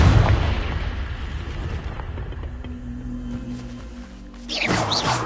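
A Confringo explosion spell in the video game Hogwarts Legacy lands as a loud, booming blast up close, then rumbles and fades, with a brief sharp burst near the end.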